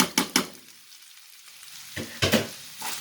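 Minced meat with two big spoonfuls of tomato sauce stirred in a pan, with a few sharp scraping strokes, a quieter pause, then more brisk spoon scrapes close up.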